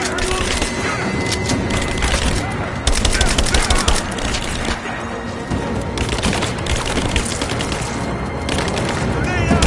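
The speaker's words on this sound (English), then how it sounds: "Open up! Taking fire! Give me covering fire!" Sustained heavy gunfire from automatic weapons in the action game Rise of the Tomb Raider, dense and loud throughout with bursts and cracks, while voices shout over the firefight.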